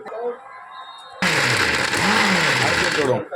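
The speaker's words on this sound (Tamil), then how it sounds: "மிளகாய், வெங்காயம், தேங்காய், சின்ன சீரகம், பெருஞ்சீரகம், வெள்ளைப்பூடு எடுத்து நம்ம மிக்சியில் அரைக்க போகிறோம்" A mixer grinder blends chilli, onion, coconut, cumin, fennel and garlic for a vengayam leaves poriyal, kicking in abruptly after a short stretch of talk and running as a loud, steady, whirring grind for about two seconds before cutting out.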